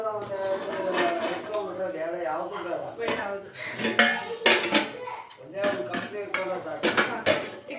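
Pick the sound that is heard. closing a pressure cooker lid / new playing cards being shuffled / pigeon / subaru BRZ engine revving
closing a pressure cooker lid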